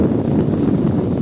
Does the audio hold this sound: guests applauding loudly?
no